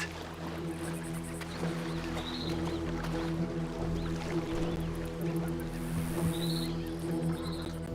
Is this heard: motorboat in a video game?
yes